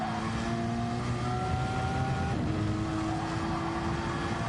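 A Porsche race car engine in a racing video game drones continuously at high revs, with the pitch sweeping up, dropping at a shift and climbing again, loud and steady throughout.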